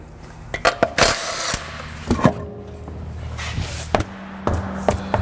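Short bursts of a power tool whirring and rattling as it removes a wheel from a 2005 Toyota 4Runner, with metallic clunks between bursts, close and fairly loud, no talking.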